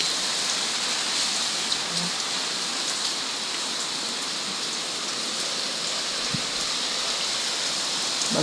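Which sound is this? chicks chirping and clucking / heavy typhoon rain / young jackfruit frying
heavy typhoon rain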